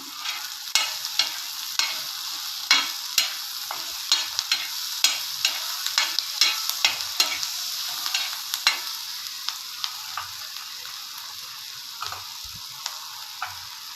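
Ginger and garlic frying in hot oil with cloves, black pepper, cinnamon and bay leaf, a steady close sizzle broken by frequent light ticks and scrapes of stirring, with no talk.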